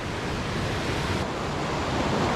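A murky river after a day of rain rushes steadily, a constant broadband wash with no voices.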